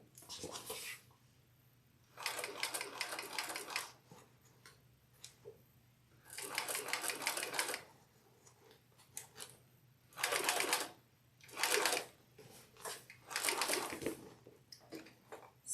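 Home sewing machine stitching fabric for a Brunella bag, running in several short, quiet bursts of whirring needle action with soft pauses and fabric handling between them.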